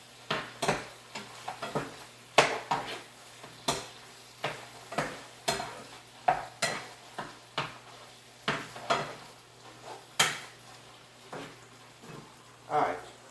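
Chopped meat mixture cooking in a pan for baked ziti: steady sizzling with frequent close scraping and stirring knocks from a utensil against the pan in an irregular rhythm.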